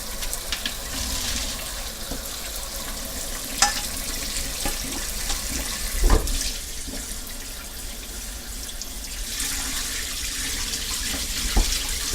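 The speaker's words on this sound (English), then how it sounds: "I'm going to go ahead and drain the pasta." Pasta water drains into a kitchen sink as a steady, broad rush of pouring water lasting several seconds, with a few clanks of the pot against the sink.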